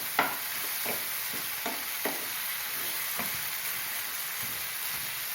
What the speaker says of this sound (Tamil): தக்காளி நல்லா டேஸ்ட் ஆகிற வரைக்கும் வதக்கணும், அது குத்தி விட்டு வதக்கணும்.